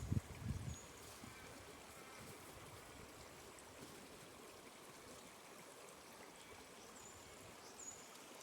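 Creek water flowing in a steady, soft wash that continues unbroken, faint and fairly close, with a brief low thump at the very start.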